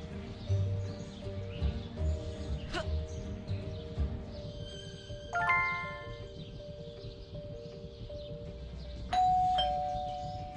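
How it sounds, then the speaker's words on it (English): A doorbell in the video game Scary Teacher 3D rings a few times, each chime clear and ringing out over a steady bed of game music and sounds. "There goes that stupid bell again."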